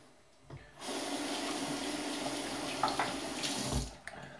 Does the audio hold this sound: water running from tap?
yes